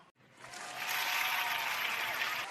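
A burst of applause from a small group, clapping steadily for about two seconds before easing off.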